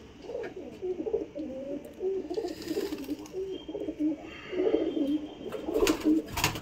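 A pigeon in a loft coos continuously in rolling, throaty phrases close by, the soft warbling steady throughout with a few sharp clicks near the end.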